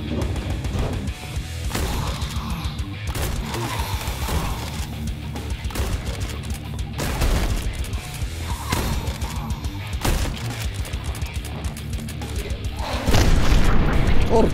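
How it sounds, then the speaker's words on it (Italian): Explosions and heavy gunfire in the retro shooter Nightmare Reaper, booming blasts recurring amid rapid weapon fire, ending in a louder, sustained roar; someone talks over the action. "Porca vacca, che esplosione!"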